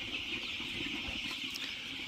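Andijan black chicks, about a month old and kept for egg laying, chirping in a steady high-pitched chorus with a few occasional louder peeps over a constant background hum.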